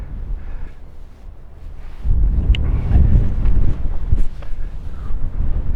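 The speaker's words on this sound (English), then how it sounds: "It's getting a bit windy now." Wind gusts buffet the microphone on a country walk past a farm, a loud low rumble that swells and stays strong, with no talking.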